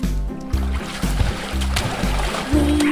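Playful water splashes sound in a children's bath-time nursery rhyme: a string of bright splash effects spaced about half a second apart over a bouncy musical backing.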